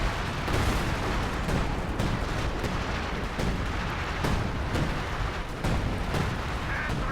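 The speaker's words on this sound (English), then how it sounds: "We have another 105mm barrage coming down" 105mm artillery barrage in Company of Heroes 2, a dense rumbling wash of distant booms and impacts with sharper cracks scattered through it, continuous and heavy.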